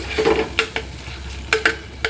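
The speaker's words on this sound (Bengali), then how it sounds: "এটা আগে ভাজা ভাজা করে নিই" Chicken pieces stir-fried in a home kitchen pan, a steady low sizzle broken by several sharp scraping stirs of a spatula, close and fairly loud with no talking.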